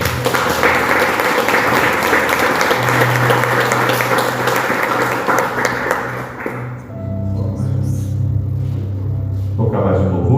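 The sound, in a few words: church congregation applause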